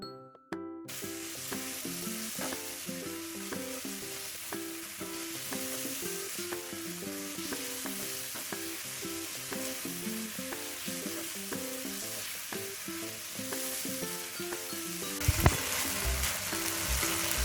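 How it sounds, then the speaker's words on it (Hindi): Chicken fries in a pan over full flame, a steady loud sizzle running throughout with occasional stirring clatter, close and alone with no talking. "आपको इसे फुल फ्लेम पर ही कुक करना है।"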